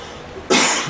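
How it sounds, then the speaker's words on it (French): A single sharp cough bursts out after a brief quiet stretch, loud and close, trailing off over half a second. "Excusez-moi, je tousse un peu."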